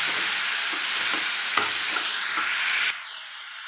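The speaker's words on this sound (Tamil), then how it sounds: "நல்லா பாதி தக்காளி வதங்கி வர அளவுக்கு வதக்கிக்கலாம்." Large tomatoes sautéing with onions in a pan for chicken kuzhambu, a loud bright sizzle with several spatula scrapes, the hiss dropping abruptly near the end; no one speaks.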